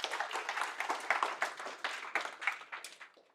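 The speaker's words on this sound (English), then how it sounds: "round of applause for Alex" An audience gives brief applause for Alex after a talk on agile teams: a short burst of quick, overlapping claps from a modest crowd that thins out near the end.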